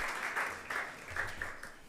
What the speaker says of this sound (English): With a hefty round of applause, can we welcome Mr. Gameli Ajahu?